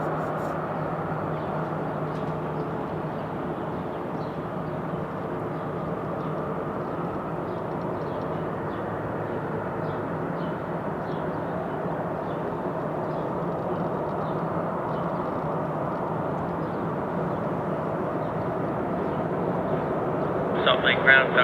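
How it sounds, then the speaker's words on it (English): A Boeing 737-900 jet departs from Salt Lake City International, its engines making a steady sustained roar and rumble at some distance that holds level for the whole stretch. "737-900 departing now."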